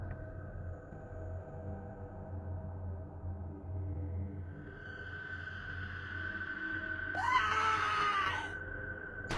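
A sharp scream bursts out near the end of a horror tale set in a dark graveyard, rising loud above a low ambient rumble and steady hum that fill the rest of the stretch.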